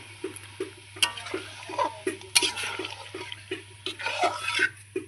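Water poured into a cooking pan of frying food, a splashing, gurgling pour with bubbling and a few clinks, fairly close, no talking.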